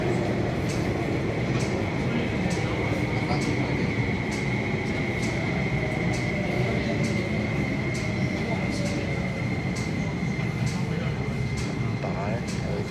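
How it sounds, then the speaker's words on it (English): MTR metro train arriving at Ho Man Tin station, a steady loud rumble and rolling roar with a faint high whine running throughout, under platform announcements and background voices. "列車即將到達"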